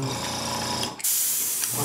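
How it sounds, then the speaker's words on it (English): An airbrush spraying paint onto a church diorama gives a loud, steady hiss, briefly broken by a short gap before the spray resumes with a brighter, airier rush, with a compressor hum underneath. "the airbrush gun, or the airbrush machine, turns on every few seconds as I'm spraying"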